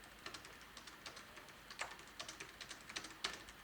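Keys tapped on a Logitech MX keyboard designed for Mac, a quiet close series of light clicks in an irregular typing rhythm with a few sharper, louder spacebar thumps, no voices.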